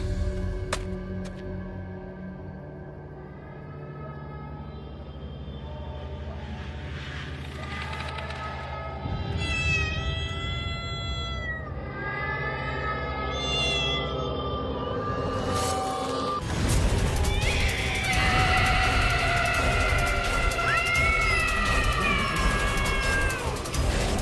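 A black cat meows repeatedly in drawn-out, wavering cries over a steady background hum, growing louder and more insistent toward the end.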